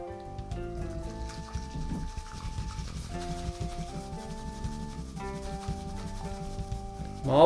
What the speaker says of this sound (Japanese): だいたい 2g くらいの抹茶に 10ml お水を入れて練ります。